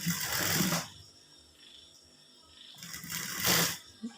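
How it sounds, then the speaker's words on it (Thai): A sewing machine runs a garment's side seam during a dress alteration, whirring in two bursts, one at the start and one near the end, with a quiet pause between them. "เย็บข้างหนึ่งก่อนทั้งสองข้างนะคะ"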